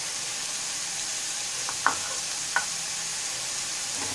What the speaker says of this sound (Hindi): इनको अच्छे से भून लेंगे।